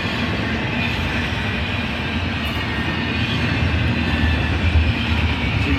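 A BNSF double-stack intermodal freight train passes close by in a loud, continuous rumble and steady rolling roar of wheels on rail that holds through the whole stretch.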